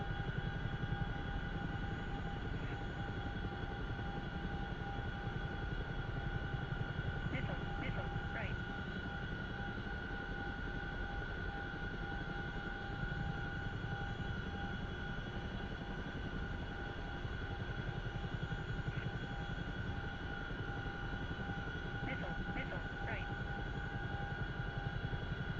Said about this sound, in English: I'm in a Chinook orbiting over the FARP and these enemy vehicles.